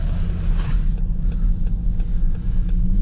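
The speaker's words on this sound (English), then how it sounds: "Braking, a little bit of ABS." A 2021 Dodge Durango R/T rolls on a snowy street with a steady low engine and road drone while braking, with faint intermittent pulsing ticks as the ABS engages.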